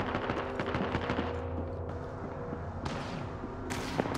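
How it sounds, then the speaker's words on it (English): Dense automatic weapon fire in the Apex Legends ranked arena mode, with rapid overlapping bursts and sharp hits that stay loud and continuous throughout, over steady game background noise and no talking. "Taking fire."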